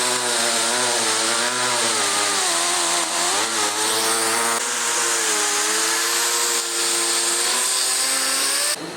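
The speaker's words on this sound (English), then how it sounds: "now doing his first cuts in the bumper" A power tool cuts steadily and loudly into the front bumper of a 2023 next-generation Ford Ranger, its high, harmonic whine running continuously and close with only slight pitch dips, while no one talks.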